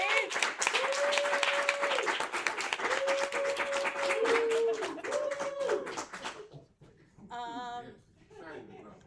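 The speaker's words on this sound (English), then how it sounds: "Let's give one round of applause for an amazing debate" Audience applause after the final round of a college debate tournament between SMU and Boston College, a sustained crowd clapping under a speaker's voice for about six seconds before cutting off, followed by quiet with a short electronic tone.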